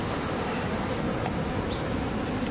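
A swarm of bees buzzes densely and continuously at close range, a steady droning hum that stays loud and even throughout with no voices.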